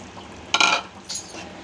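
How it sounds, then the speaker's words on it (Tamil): Fish added to a simmering curry in a pan and stirred gently, one short scrape and clatter followed by a fainter second stroke over a low hiss. "மீனை போட்டுட்டு லைட்டாக ஓரமாக இப்படி கிண்டி விட்டுட்டு"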